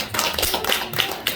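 An audience claps in a brief burst of dense, crackling hand claps, loud and close, that welcomes a chairman into a lecture room. No voices are heard.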